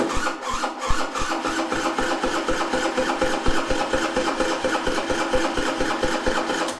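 Peugeot Fox moped engine on electric start, cranking and running with a fast, steady, even pulsing that stays loud and close for several seconds, with no voices.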